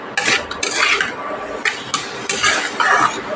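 Potatoes are stir-fried in a pan for a water lily curry, with repeated bursts of spatula scraping and clanking against the metal pan, close and rhythmic over a faint sizzle.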